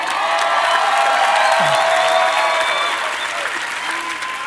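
Audience applause at a Dutch Bros keynote in Portland, Oregon, a dense, steady wash of many clapping hands from a large crowd that thins slightly toward the end, with faint whoops mixed in.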